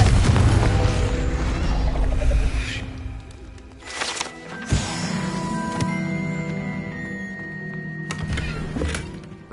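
Confringo explosion spell cast in Hogwarts Legacy, several loud thumping blasts with ringing magical tones and rumbling tails, spread across the stretch among other game effects.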